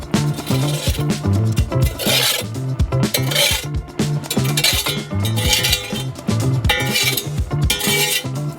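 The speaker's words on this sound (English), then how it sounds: "Rake the coals to the sides." Hot coals are raked to the sides inside a warmed-up baking stove, giving repeated rough metallic scraping and rasping strokes over steady background music.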